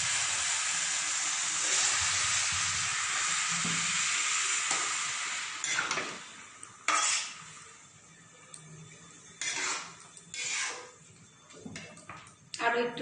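Water poured into a hot pan of vegetable khichuri, bursting into a loud, dense sizzle and hiss that slowly subsides, followed by intermittent stirring scrapes and bubbling, close up.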